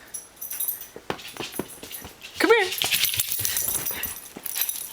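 A dog whimpers, yips and snorts at a sock at close range. The sounds come in short bursts that grow louder and more excited partway through, while a person calls out to it.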